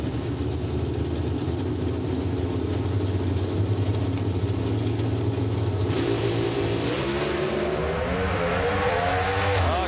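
Pro Stock drag racing cars at round one of the 2014 Northwest Nationals, a loud sustained engine roar at the strip that swells into a rising, revving scream as the cars launch and pull away.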